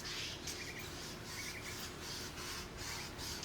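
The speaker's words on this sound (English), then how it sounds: "Got a loud bird back there, kiddos." A bird calls repeatedly in the background, short faint chirps recurring at a fairly regular pace over a quiet, hissy room tone.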